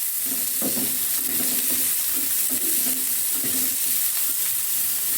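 Finely chopped onions, two of them, fry and get stirred in a spoonful of oil in a pan, giving a steady close sizzle with soft scraping strokes and no voices.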